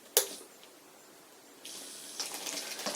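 An Arduino-driven watering system spills water onto a plant, giving a sharp splash at the start, then a quiet stretch before a steady, uneven pouring and spattering returns for the last second or so.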